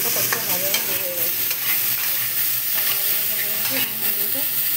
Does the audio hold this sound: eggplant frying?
yes